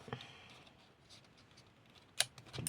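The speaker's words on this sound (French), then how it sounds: "Ciseaux." Quiet, close snips of scissors cutting scrapbooking paper, a few brief crisp cuts near the end against a faint background.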